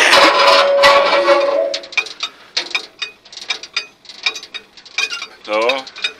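Cable car mechanism at Ter Apel clicking and ratcheting as it engages, a loud grinding rattle first, then a run of sharp irregular clacks and metallic ticks close by, with faint talk.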